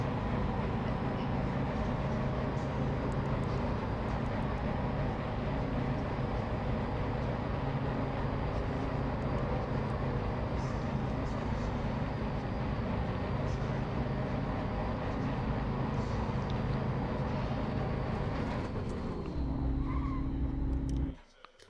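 A GT3 race car lapping in the racing game Assetto Corsa Competizione: a continuous engine drone with hints of tire squeal that cuts off near the end, with a voice talking over it.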